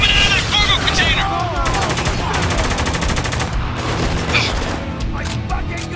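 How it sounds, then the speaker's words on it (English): Heavy gunfire in the shooter game Spec Ops: The Line, rapid automatic bursts and booming shots layered over each other with shouted voices mixed in, loud and continuous. "we're taking some heavy fire"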